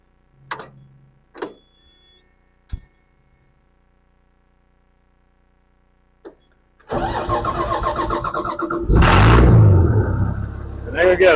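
A CAT D4 dozer engine starts after a few clanks and clicks, cranking up into a loud, rough, close-up diesel run, roaring briefly as it revs, then settling into a steady rumbling idle.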